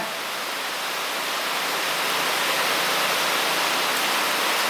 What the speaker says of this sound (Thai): วันนี้ก็ฝนตกแล้วเนี่ย